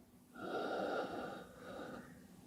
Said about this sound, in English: then long, gentle exhales through the mouth